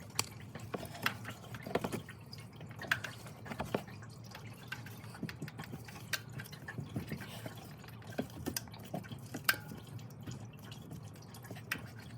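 Engine coolant dripping from a released bottom radiator hose on a vehicle, faint drips and splatters falling at an uneven pace over a low steady background hum, with no talking.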